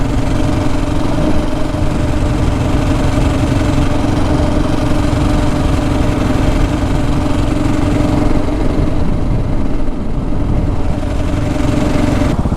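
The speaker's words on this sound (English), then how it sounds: "so the road noise from these tires. I have Shinko MX216 fatty in the front and a MX216 in the rear" Steady broadband road and engine rumble from a KTM 690 Enduro R riding on knobby Shinko MX216 tires, a constant droning hum that holds at an even level throughout with no talk.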